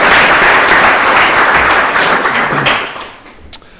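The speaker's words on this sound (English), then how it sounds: "let's give a nice round of applause to these young" A startup meetup audience gives loud, dense applause for a group of young entrepreneurs. The clapping is close and full, then thins and fades away toward the end.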